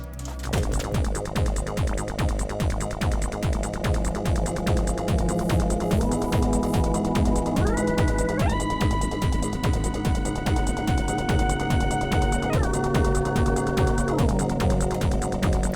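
A synth pad with pitch bend set to 24-semitone sensitivity plays a driving sequenced pattern, its sustained notes sliding up and down by wide steps over a steady pulsing rhythm, loud and continuous.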